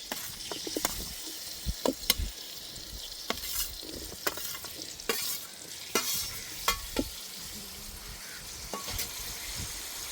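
Tomato, onion and curry leaves fry in oil in a pan with a steady crackling sizzle, broken by sharp scraping and clinking of a spoon stirring at irregular moments, close and fairly loud.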